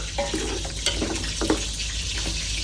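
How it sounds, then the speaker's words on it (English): Half a jar of water is poured into mutton keema curry in a cooking pot, giving a close, continuous splashing and gurgling flow with a few louder splashes and no talking. "Now, to this curry, I'm adding around half a jar of water"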